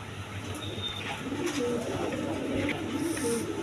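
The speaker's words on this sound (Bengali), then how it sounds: "একদম ছটপট কবুতর, গররার বেবি।" A young Gorra pigeon coos nearby in soft, repeated low warbles over a steady background hum, with no voices.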